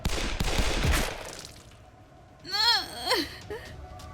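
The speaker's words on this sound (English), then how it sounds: "Then I felt many bullets rip right through me." Gunfire volley in the game Hakuoki, a dense burst of rapid shots up front that fades, followed by a sung or vocal cry.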